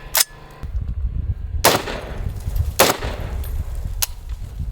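Several sharp AR10 rifle shots crack during a torture test, roughly four loud, close reports spaced about a second apart, each trailing off into echoing outdoor ambience.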